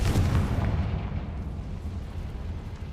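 A Confringo blasting spell goes off in Hogwarts Legacy: a loud, rumbling explosion bursts at the start and then rolls into a dense, fading roar of debris and echo.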